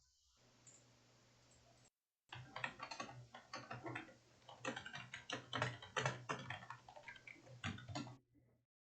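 Computer keyboard typing, a rapid irregular run of close, crisp key clicks that starts after a brief silence and continues for several seconds over a faint steady hum.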